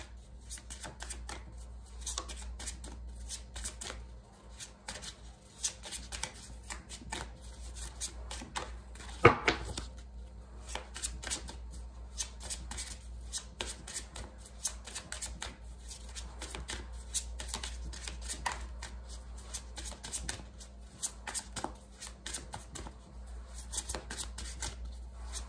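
Tarot cards are shuffled by hand for a long stretch, giving a quiet, continuous patter of rapid papery flicks and riffles with one louder burst of shuffling partway through, and no voice.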